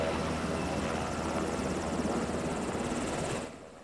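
A helicopter setting down in a field, its rotor roar loud and steady and close by, then easing off at the very end.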